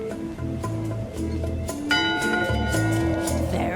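A ship's bell rings aboard a pirate ship in the Return to Monkey Island video game, its bright struck tones sounding over the game's background music during the second half.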